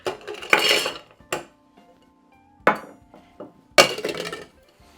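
Metal cocktail shaker and ice being handled at a bar counter, giving several separate bursts of clinking and rattling with quiet gaps between, close and fairly loud.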